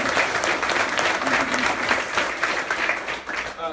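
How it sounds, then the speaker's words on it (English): A town hall meeting audience applauds, a dense burst of clapping that holds steady for several seconds before thinning near the end. "So we can have a round of applause for Dick."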